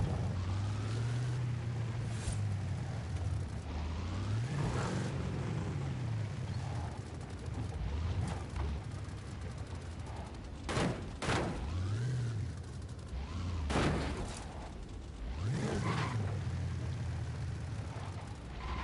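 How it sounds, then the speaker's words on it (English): A video game car engine burbles at low RPM, a deep rumbling drone that rises and falls in several throttle swells, with sharp bursts of backfire pops between them, fairly faint and close. "this car sounds sweet as fuck at low RPMs."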